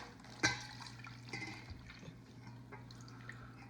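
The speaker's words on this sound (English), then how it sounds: "you are going to pour it right into the pudding mix" Milk poured into a bowl of pudding mix gives a soft, quiet liquid splash and trickle, with a small knock near the start and no voices.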